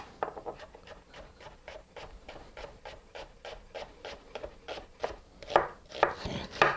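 A knife makes a fast, even series of crisp taps through an onion on a cutting board, the parallel cuts growing louder and more forceful toward the end, with no speech.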